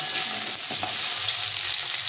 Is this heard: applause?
no